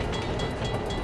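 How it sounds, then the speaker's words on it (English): A train rumbles along in Bloons TD 6, a loud, dense, continuous roar with rapid rattling through the short clip and no voices. "We send a fucking train."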